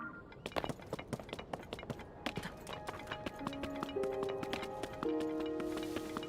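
Horse hooves clip-clop in the video game Time Link, a rapid, even run of sharp hoof strikes over game music with sustained tones, moderately quiet and without talk.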